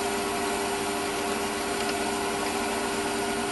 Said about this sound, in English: And just walk the reamer through there. I'm doing 600 RPM.